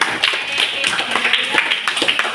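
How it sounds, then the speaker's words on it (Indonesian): Students in a junior high classroom clap their hands together, a dense, uneven patter of close claps lasting throughout without any talking. "tepuk tangan untuk kalian"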